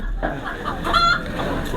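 A hill rooster of the molla chicken type at Chaka Bazar market in Rangamati gives a short, near cluck mid-clip over a steady murmur of market background noise.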